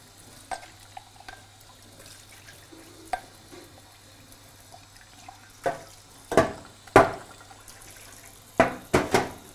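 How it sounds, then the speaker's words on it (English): Hands are washed under a running kitchen tap after handling a greasy Pyrex dish. Faint clatter comes first, then several loud, close bursts of splashing water toward the end, with no talking. "Now, wash my hands. Wash up as you go along."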